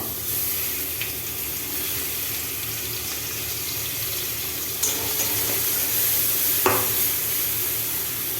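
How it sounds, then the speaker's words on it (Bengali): Ginger, cumin, garlic, chilli, onion and spices frying in oil, a steady close sizzle with occasional stirring clinks and scrapes against the pan, no one speaking. "আদা, জিরে, রসুন, লঙ্কা, পেঁয়াজ, সব কিছু মশলা, জিরে, ধনে, এগুলো একটু ভেজে নেবো।"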